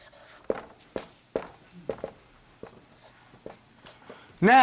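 Marker or chalk strokes tap and scrape across a board during an Arabic grammar lesson, a series of sharp, irregularly spaced writing sounds close by, ending with a brief burst of voice.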